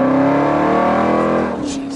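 Jeep Trackhawk SUV engine pulling hard on a test drive, a loud steady rising drone that eases off near the end, with faint voices over it.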